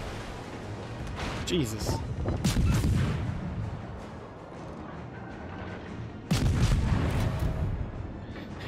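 High-explosive shells fire and land in World of Warships naval combat, heavy booming blasts around 1.5–3 seconds and a sharp loud hit near 6.3 seconds, with someone talking over the game noise.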